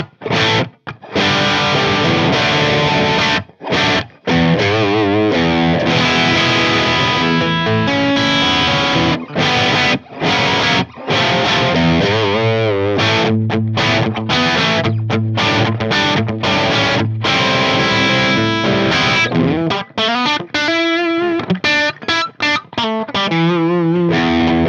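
An electric guitar with distortion is played through humbucker, P90, single-coil and FilterTron pickups in turn, on Les Paul, Telecaster and Gretsch instruments, with loud sustained chords and riffs broken by brief silent gaps between passages.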